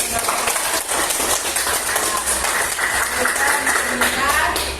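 A classroom of students claps steadily throughout, a dense continuous patter with a teacher's voice talking over it.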